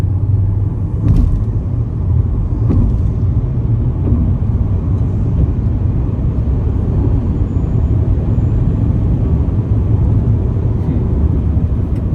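Inside an XPeng P5 electric car accelerating hard, a steady low road rumble and hum fills the cabin, even and continuous throughout, with faint occasional knocks.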